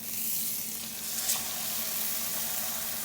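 Tilapia fillets sear in a hot buttered skillet with a steady, close crackling sizzle that holds even throughout, bright and hissy with no talk over it.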